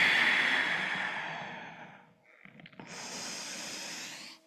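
A long, deep exhale during a yoga session, heard as a breathy hiss that fades out over about two seconds, followed by a brighter, airy breath sound, close and alone with no talking.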